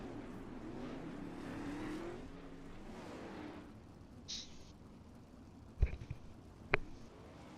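Race cars run three wide in a streamed race, their engines a loud, dense roar up close that eases into a steadier drone, with a couple of sharp clicks near the end.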